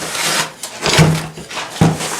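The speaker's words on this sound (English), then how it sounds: "I'm gonna just stir it up dry a little bit, just like that." Dry mortar mix is stirred in a container, a loud close scraping and rubbing in several strokes with brief knocks, with no talk.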